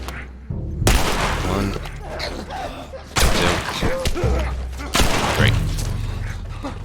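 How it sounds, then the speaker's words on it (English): Three loud, sharp gunshots ring out about two seconds apart during headshots in The Last of Us, each followed by a short echoing tail, while a nearby voice counts along. "We're going to get 3 headshots here, and we're going to do it in a specific way"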